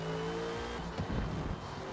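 A race car in Forza Motorsport at Silverstone holds a droning engine tone, then surges at full throttle with a brief rough burst of revving and tyre noise, fairly faint and without speech.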